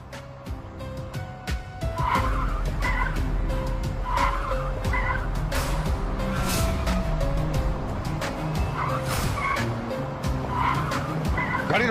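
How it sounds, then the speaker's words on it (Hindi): A car brakes hard and skids with sustained tire squeal and engine noise, loud and continuous for several seconds after a brief lead-in. "गाड़ी रोको, गाड़ी रोको।"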